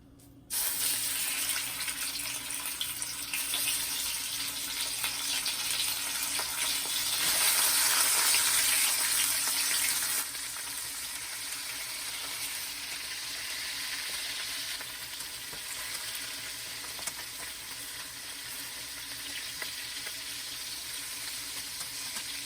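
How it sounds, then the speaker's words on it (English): Marinated ribs brown in oil in a pan, giving a steady, bright sizzle that swells for a few seconds and then settles to a softer, even frying hiss, with no one talking. "I'm going to brown the marinated ribs"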